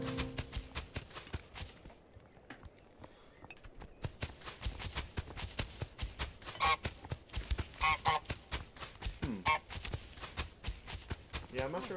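Goose honking in Untitled Goose Game, a series of short nasal honks over busy game sounds and footsteps, with people talking throughout.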